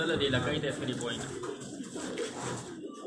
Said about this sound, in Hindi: तकरीबन इस टाइम 100 कबूतर तो सिर्फ इसी खाने में खड़ा है